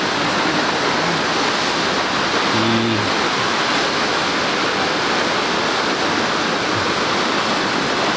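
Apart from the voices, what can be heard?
waterfall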